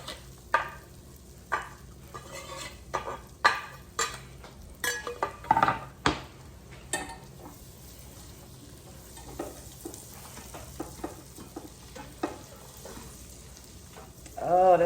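Garlic dropped into melted butter in a pan while making shrimp scampi, giving a steady frying sizzle under a run of sharp utensil knocks and stirring clatter, close and moderately loud, with a voice briefly near the end.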